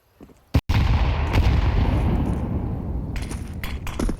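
A grenade blast in a Counter-Strike match, one short sharp pop followed by a loud, sustained booming rumble that fades over several seconds, heard up close and alone.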